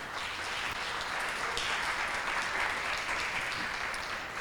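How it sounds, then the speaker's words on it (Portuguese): A church congregation applauds steadily and continuously as a broad, even wash of clapping at moderate distance, with no break and no talking over it. "Aplauda o Senhor em nome de Jesus."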